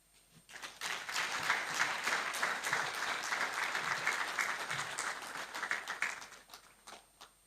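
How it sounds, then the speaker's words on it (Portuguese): A lecture audience bursts into applause that swells quickly, holds as a full, even roar of clapping for several seconds, then thins out and fades. "Peço mais uma forte e calorosa salva de palmas pela brilhante aula que foi aqui proferida"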